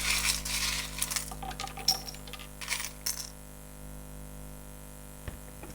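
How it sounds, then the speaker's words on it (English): Tarot charms shuffled by hand, giving a run of light clinks and rattles over a low steady hum for about three seconds, then near quiet with one small knock near the end. "I'm going to shuffle my charms."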